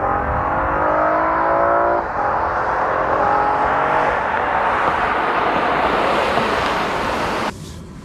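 A car at full throttle on a 0-60 mph run, either a 2015 Acura TLX or a Volvo S60 T6, its engine whining up in pitch to a gearshift, then a steady loud roar with heavy wind rush.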